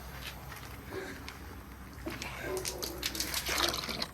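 Water sloshes and splashes over gravel in a gold pan, with gritty scraping and trickling that grows busier toward the end, heard up close.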